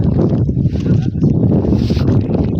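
Cold wind blows steadily across an open lake while fish are pulled out with a large net, a continuous low rushing buffet of air against the microphone.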